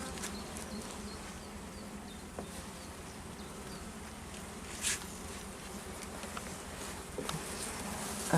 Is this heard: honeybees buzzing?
yes